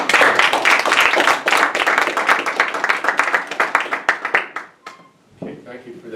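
Audience applause after a lecture at Bard College Berlin: dense, sustained clapping from a room full of people that thins out and stops near the end, followed by a voice beginning to speak.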